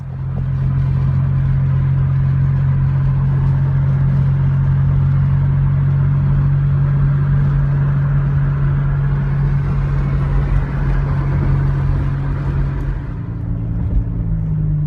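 A car engine drones steadily as the vehicle climbs Trans Mountain Road through the Franklin Mountains near El Paso, Texas, with a constant low hum and road noise that drops in pitch near the end.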